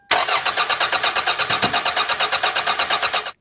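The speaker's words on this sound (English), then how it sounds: "Next, we're going to get in our car, turn the engine," A car engine cranking without starting, a loud, rapid, even rhythmic chugging of the starter turning the engine over for about three seconds, then cutting off.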